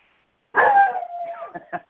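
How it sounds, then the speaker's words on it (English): A dog barks and yips close by in a house, one drawn-out whining bark followed by a few short sharp yelps, loud and on its own. "What a crazy dog."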